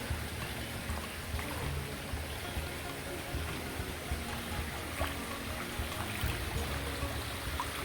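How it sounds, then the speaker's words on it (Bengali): Rainwater streams across a flooded rural road after a night of heavy rain, a steady broadband rush and trickle with scattered drops, continuous and fairly close throughout with no voices. "দেখেন এই যে পানি কীরকম ধার, স্রোত করছে, স্রোত হচ্ছে।"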